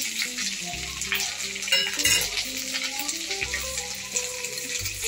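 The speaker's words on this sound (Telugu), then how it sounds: "మెంతులు, ఆవాలు, ధనియాలు ఈ 3 మంచిగా వేయించుకుందాం." Steady frying sizzle of fenugreek, mustard and coriander seeds roasting in a pan, with stirring scrapes and clinks of a utensil against the pan, continuous and close, no voices.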